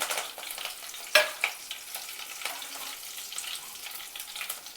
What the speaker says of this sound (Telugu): కరివేపాకు చెట్టుపట్లాడుతుంది, కొంచెం జాగ్రత్తగా ఉండాలి.